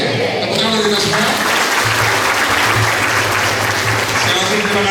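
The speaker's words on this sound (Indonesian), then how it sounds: "Tepuk tangan dari kita semua." Audience applause at a provincial government event in NTT, Indonesia, a loud, steady wash of clapping from a large crowd lasting throughout, with voices and a low hum beneath it.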